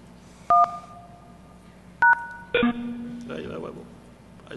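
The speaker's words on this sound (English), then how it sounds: "Ian is going to call the PBX using a soft phone" Two short bursts of dual-tone telephone keypad dialing from a SIP soft phone calling a PBX, followed by a ringing-style tone and a faint voice-like burst, with a low steady hum underneath.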